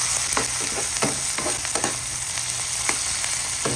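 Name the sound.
sautéing garlic, ginger, onion and tomato in a pan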